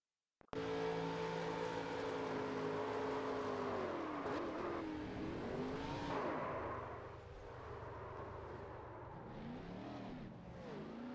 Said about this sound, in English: He'll throttle up back on the racing surface.